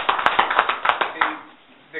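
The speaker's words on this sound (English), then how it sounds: "I think a round of applause is in order." Scattered hand claps at a city council meeting in Vader, a handful of sharp separate claps close by that thin out and fade within a couple of seconds.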